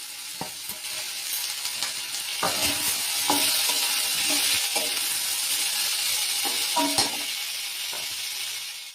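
Chopped tomatoes hit hot oil already seasoned with chili and bay leaf, giving a steady loud sizzle throughout with scraping stirs and occasional spoon clinks against the pan.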